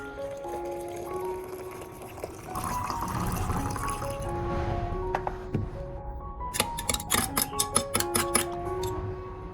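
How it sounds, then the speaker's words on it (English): Boiling water poured into a container with garlic, then stirred, giving a gurgling pour followed by clinking, tapping stirring strokes near and fairly quiet. "I poured in about 500 milliliters of boiling water and stirred it well"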